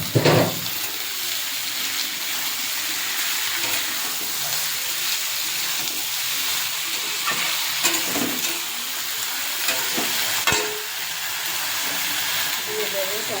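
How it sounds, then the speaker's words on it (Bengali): Bombay duck fish and softened eggplant fry together in a pan, a dense, loud sizzling hiss with occasional clinks and scrapes of a utensil, close and continuous. "এদিকে বেগুনটাও নরম হয়ে গেছে, কেটে ধুয়ে রাখা লোটে মাছটা দিয়ে দেব।"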